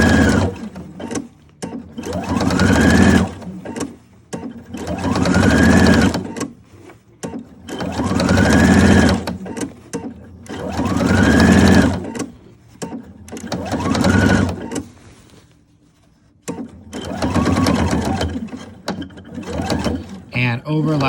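A sewing machine stitches a shirt sleeve on a Presley shirt in repeated loud bursts, about seven runs of roughly two seconds each, separated by brief pauses, close and prominent.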